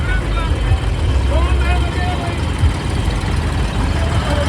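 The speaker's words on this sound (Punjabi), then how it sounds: "ਲੋ ਜੀ ਟਰੈਕਟਰ ਸਾਰੇ ਕਰ ਲਏ ਆਪਾਂ ਨੇ ਤਿਆਰ ਦੇਖੋ ਜੀ ਚੱਲੇ" Several tractors readied to carry a sugarcane-juice langar idle together in a steady, close, low rumble, with people talking over the engine noise.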